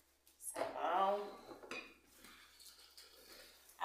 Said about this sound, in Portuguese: Vamos começar a lavar a louça.